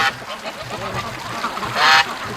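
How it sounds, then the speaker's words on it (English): Free-range ducks at a creek give a few nasal honking calls close by, including a louder call near the end, over outdoor background noise. "There are some ducks behind me here"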